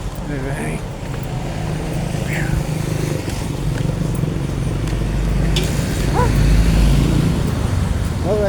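A motorcycle passes on a village road near a school, its engine hum swelling and growing loudest toward the end, under traffic noise and a voice talking nearby.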